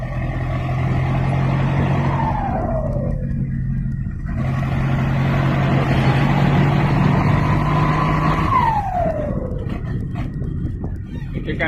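A car engine cruising steadily in fifth gear, a loud continuous drone that dips and rises through two smooth pitch sweeps, with a faint voice under the noise.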